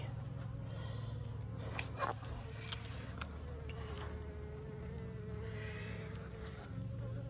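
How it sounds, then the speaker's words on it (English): Honeybees drone in a steady, close, continuous hum around an opened hive during a frame inspection, with occasional louder passes of single bees and no talking. "we're seeing plenty of nurse bees"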